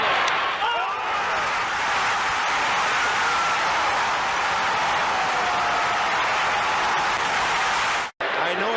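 A baseball crowd at a St. Louis Cardinals game roars continuously as Mark McGwire hits his 63rd home run. The dense, loud cheering holds steady for several seconds, then cuts off abruptly near the end.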